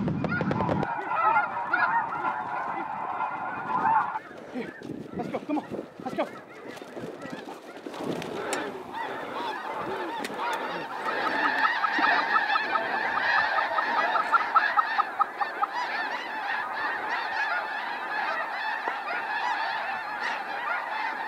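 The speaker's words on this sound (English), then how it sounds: "We got more geese coming." A large mass of snow geese honks continuously as flocks come in during a hunt, dense overlapping calls swelling louder through the middle and staying busy to the end.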